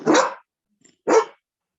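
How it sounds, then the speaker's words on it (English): A dog gives two sharp, loud barks about a second apart, close by, with near silence between and after them. "And then I can get a bark for you."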